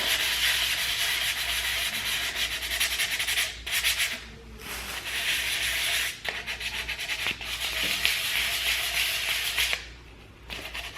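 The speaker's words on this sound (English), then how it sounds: "You can use a high number grit sandpaper, because this is so easy." Sandpaper rubs over Dixie Belle Mud wood filler in long, loud, close scratchy strokes, broken by a few short pauses between passes.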